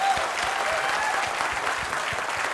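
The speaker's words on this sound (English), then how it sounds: "Let's give a big round of applause once again." A big round of applause from the audience at a Toastmasters district conference: dense, even clapping from many hands, loud and sustained without pause.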